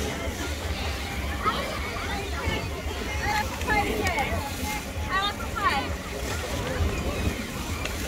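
Rough surf at Blackpool beach churns and splashes continuously with gusty wind buffeting the microphone, and people talk quietly under the water noise.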